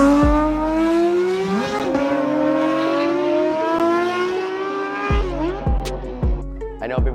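A Porsche GT3 RS engine revs hard and close, rising and falling in sustained high-pitched sweeps with sharp gear changes and a few quick blips near the end.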